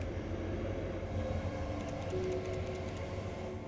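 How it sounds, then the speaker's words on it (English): A train rumbles past on the track close by, with a steady low roar and a quick run of rhythmic clicks from the wheels. "Maybe I can wait for a train to pass here on the track"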